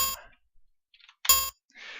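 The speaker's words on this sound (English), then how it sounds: "you no longer notice the high-pitched beep" A warning light in the Space Quest II video game gives off a high-pitched electronic beep, heard as two loud buzzy bursts separated by faint, brief blips and quiet gaps.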